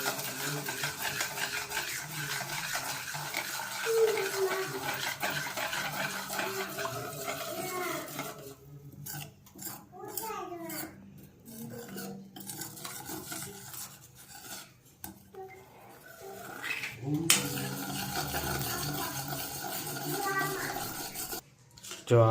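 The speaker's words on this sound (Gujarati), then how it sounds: "આને તમારે હલાવતા રહેવાનું છે" A spoon stirs white sauce made with milk in a pan at home, a steady scraping, rubbing rhythm that runs continuously and close, with brief pauses and light clinks of utensil against metal.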